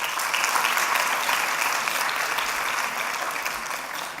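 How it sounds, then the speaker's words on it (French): An audience at a national medical congress applauds with steady, dense clapping that holds at an even level throughout and fades slightly near the end. "Je pense que vous pouvez les applaudir."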